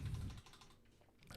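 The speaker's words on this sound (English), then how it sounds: "When I start typing" Rapid typing on a computer keyboard, a quick run of light key clicks close by with no talk over it.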